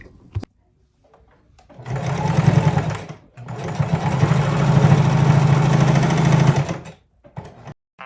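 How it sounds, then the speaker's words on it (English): A sewing machine stitches curtain fabric into baggy pants, running in two steady bursts of close, loud whirring, roughly a second and then three seconds long, separated by a short pause, with quiet handling noises before and after. "So just gonna sew it real quick."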